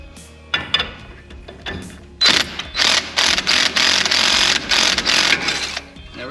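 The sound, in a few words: prying outer tie rod ball joint apart, Nissan 720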